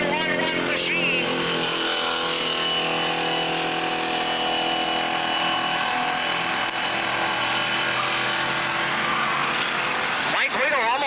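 Enduro motorcycle engine screaming at high revs, a loud continuous buzzing note that wavers slightly in pitch, close by and dominant, with a brief rise near the end.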